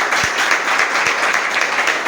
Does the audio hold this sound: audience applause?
yes